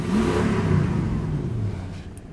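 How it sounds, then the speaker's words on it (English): A 1998 Toyota Land Cruiser engine revving up and holding, a loud, steady mid-pitched roar heard close with no voices, easing off slightly near the end. "This engine does sound great even when the motor is revved."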